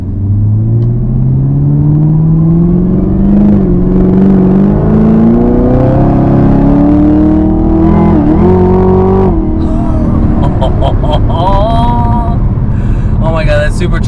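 A 650 hp supercharged Chevy Camaro ZL1 accelerates hard down a straightaway, the engine note climbing through the gears with a loud, rising roar and supercharger whine, then easing off as the driver talks over it.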